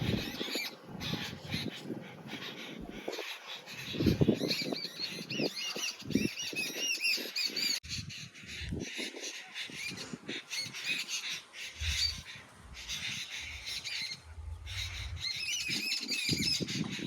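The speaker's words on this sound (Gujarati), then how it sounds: "અને આ છે નેચરલી અવાજ ચકલાનો, તમે સાંભળી શકો" Sparrows calling outdoors on a windy farm, with scattered squawks and chirps and occasional wing flutters, moderately close and irregular over steady wind noise.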